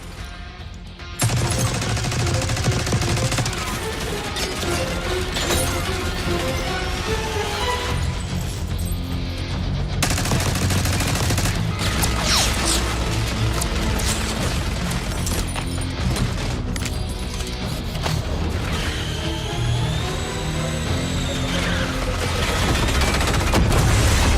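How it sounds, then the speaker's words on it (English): In the Black Ops 6 video game, a minigun roars through sustained loud bursts of rapid fire, mixed with booms, crashes and chaotic battle effects, dense and continuous for over twenty seconds. "Take cover! Stay low until that minigun stops spinning."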